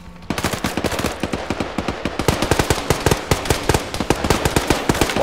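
Dense bursts of automatic gunfire from ArmA 3 combat, rapid overlapping shots in a steady loud volley, some louder and nearer, others echoing further off, with no talking.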